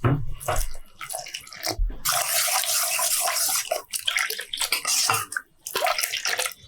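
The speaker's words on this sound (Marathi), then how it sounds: "एक वाटी पिठासाठी मी दोन वाटी पाणी घालणार आहे" Water is poured into rice flour in a pot, two cups to one cup of flour, in a steady splashing stream lasting about a second and a half, framed by close clinks and kitchen handling sounds.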